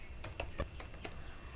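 Light, close keystrokes on a computer keyboard while PHP code is written, around eight quick clicks in an uneven rhythm with nobody speaking.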